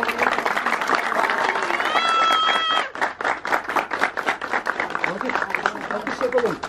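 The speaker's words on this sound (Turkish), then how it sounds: "Alkış yapalım. Alkış beraber." Turkish family gathering after a ribbon-cutting, the group clapping together in a dense burst mixed with loud overlapping voices and a short whistle-like tone; the clapping continues under chatter.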